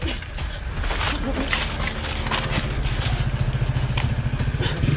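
A motorcycle engine runs close by with a throbbing, slightly clattery idle rhythm beneath loud, urgent talk.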